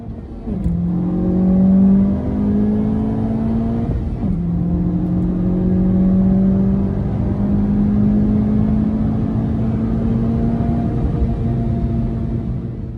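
A Honda Civic FK8 laps the Nürburgring Nordschleife, its engine droning steadily from inside the car, pitch rising through the gears, with a brief dip at a shift partway through.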